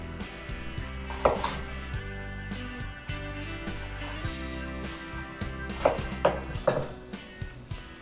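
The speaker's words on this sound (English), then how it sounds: "I also have to chop up 2 green peppers and 2 jalapeno peppers" A knife roughly chopping green peppers and jalapeno peppers on a board, repeated irregular thuds and clicks at moderate loudness with a few sharper knocks, no talking.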